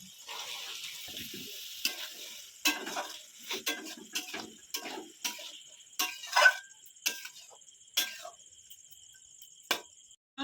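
Boiled chickpeas being stirred into a cooking masala in a pan, a faint steady sizzle under a run of sharp, irregular spatula scrapes and taps, close up and otherwise quiet.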